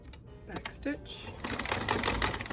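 A sewing machine back stitches on quilt binding in short rapid bursts, stopping and starting, close but fairly quiet, with someone speaking briefly over it.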